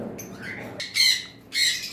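Caged pet birds such as cockatiels, lovebirds or budgerigars kept for sale squawk in two sharp, loud bursts about half a second apart, with softer chirps before them.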